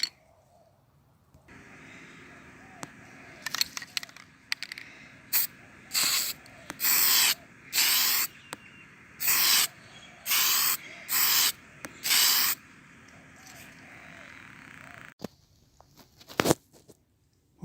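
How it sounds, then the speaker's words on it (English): Aerosol can of Dymark etch primer sprayed onto a model locomotive part over an old garbage bin: a series of short hissing spray bursts in a rhythmic run, close and clear, with can rattles between. "and I'm going to spray it."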